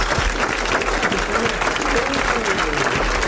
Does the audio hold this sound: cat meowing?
no